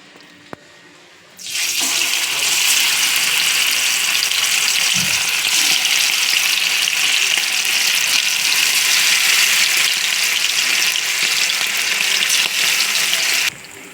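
Chicken pakoras deep-frying in a pan of hot oil, a steady loud bubbling sizzle that starts abruptly after a quiet moment and holds continuously to the end, with no talk over it.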